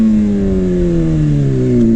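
A 600cc super sport motorcycle fitted with an aftermarket Toast exhaust revs loudly and steadily, its engine note sliding gradually downward as it runs close by without any talk.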